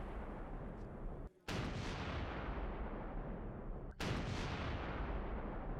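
Explosion near a gas station in Zhytomyr, heard as a loud sustained roar of blasts and rumbling that breaks off twice and comes back at full force, no voices.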